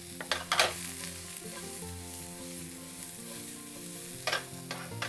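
Food sizzles in a very hot skillet while miso ramen is being cooked, a low steady frying hiss with a few sharper crackling bursts, set against soft background music.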